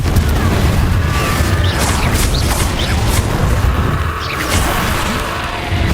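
The Confringo spell in the video game Hogwarts Legacy sets off loud, dense explosions, with booming blasts and crackling debris churning continuously and close for the whole stretch.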